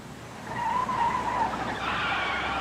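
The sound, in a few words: car tires skidding while braking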